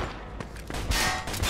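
Gunfire from the Mafia 2 video game cracks out in a few quick bursts over a short stretch, loud and close, with no talking.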